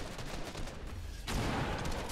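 Grenade explosion in the Fortnite video game: steady game noise gives way to a sudden loud broadband blast about halfway through, followed by a sustained rumbling roar.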